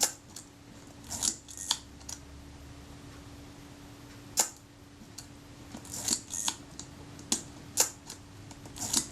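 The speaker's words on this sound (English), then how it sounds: "I'm watching the point at which this releases the film advance mechanism here compared to the shutter" Small mechanical clicks and snaps from an Agfa Karat 36 camera's shutter and film advance mechanism being serviced, sparse irregular ticks over a faint steady hum, close and quiet.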